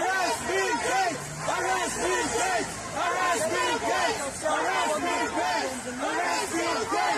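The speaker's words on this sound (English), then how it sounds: "crowds demanded his arrest for crimes against humanity everywhere he went" Large outdoor protest crowd in London chanting and shouting together in rhythmic waves, voices loud and continuous throughout, with no single speaker standing out.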